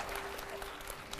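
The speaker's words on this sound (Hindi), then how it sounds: "जोरदार तालियां हो जरा, जोरदार तालियां" Brief burst of loud applause from an audience, an even roar of clapping with a faint steady tone beneath and no voices on top.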